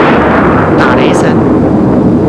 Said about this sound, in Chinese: 打雷声